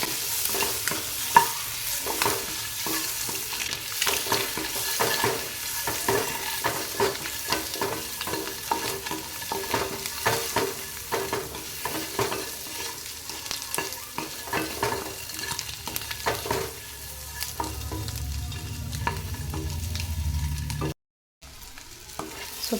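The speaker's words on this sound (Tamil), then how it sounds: "மிளகாத்தூள் கொஞ்சம் போட்டுக்கோங்க. கொஞ்சமாக மஞ்சளும் போட்டுக்கோங்க. ஸோ இதை நல்லா சாட்டே பண்ணிக்கோங்க." Chili powder and turmeric sauté in a pan over a medium flame for dhaba-style egg masala, giving a continuous close sizzle with frequent stirring scrapes and taps before it briefly cuts to silence near the end.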